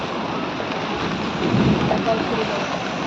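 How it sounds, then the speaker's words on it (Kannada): Rain falling on a flooded Bangalore road, a dense, steady close hiss of downpour with a slightly louder swell midway and no voices. "ಈಗ ತಿರ್ಗಾ ಮಳೆ ಸ್ಟಾರ್ಟ್ ಆಗ್ತಿದೆ"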